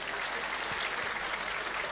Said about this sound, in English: Clap for them once again.